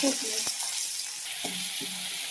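Onions frying in a pan for a Marathi-style pavta bean vegetable, a steady soft sizzle with a few brief stirring scrapes and clicks; tomato is being added, close and moderate, with no talk.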